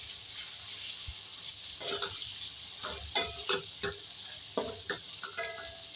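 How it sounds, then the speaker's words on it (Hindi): Minced meat fries with ground ginger and garlic in a pan, a hissing sizzle under a run of close, irregular spatula scrapes and knocks against the pan. "इसको पीसेस के साथ फ्राई करेंगे। पाँच मिनट इसको फ्राई करेंगे अदरक लहसुन के साथ"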